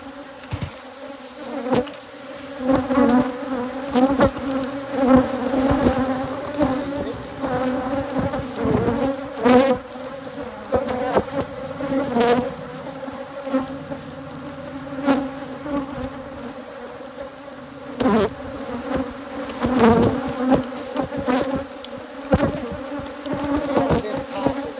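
Africanized hybrid honeybees buzz loudly and continuously around an open beehive, a dense close swarm drone with individual bees flying past the listener, no voices.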